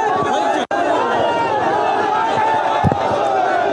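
Large protest crowd at Park Circus ground, people holding tricolour flags while effigies burn, a dense continuous din of many voices and chatter with a short dropout and a thump near the end.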